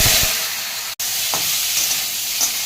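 Boiled papaya frying in oil seasoned with five-spice for a papaya and pea dal, with a loud, steady sizzle close up, a brief cut partway through, and a few light stirring scrapes.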